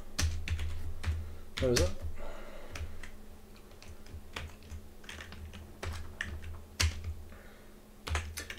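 Intermittent typing on a computer keyboard, scattered clicks and short runs of keystrokes at close range, with a brief spoken question partway through.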